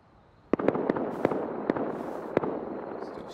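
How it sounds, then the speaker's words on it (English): Distant AK rifle shots in an online survival shooter game, several single cracks spaced irregularly over about two seconds against steady background ambience, with no talk. "Still shooting AK in there."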